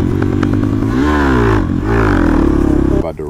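Suzuki DR650 dual-sport motorcycle riding through mud, its engine loud and close, revving up and down with rising and falling pitch, then a sudden clatter at the end.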